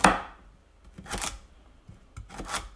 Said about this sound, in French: Dans un premier temps, nous allons couper nos carottes.